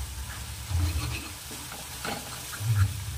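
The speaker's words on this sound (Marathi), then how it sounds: "छान असं मिक्स करून घ्यायचं आहे." Spices are stirred into a simmering soybean curry, with soft scraping stir strokes and a faint sizzle, close and fairly quiet, no voices.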